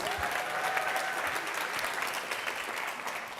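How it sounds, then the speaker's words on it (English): A live audience at a London founders' pitch event applauding, with steady dense clapping from a crowd sustained for several seconds at even loudness. "Round of applause, please"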